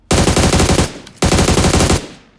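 Automatic gunfire in PUBG Mobile, two loud sustained bursts of rapid shots, each just under a second long, separated by a short pause with a brief tail at the end.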